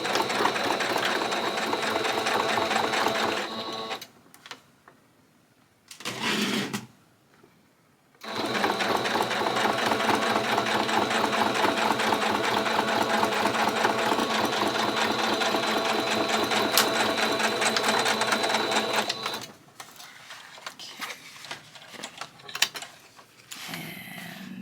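Sewing machine stitching through two layers of denim at a higher setting, a loud fast rhythmic whir in long runs broken by two short pauses near the start and a quieter stretch near the end, with no talk.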